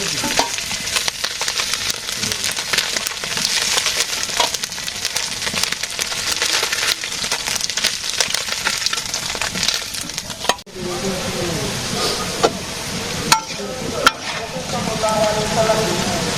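Potatoes and onions frying in a pan in a simple village kitchen, a steady loud sizzle with occasional stirring scrapes and clicks throughout.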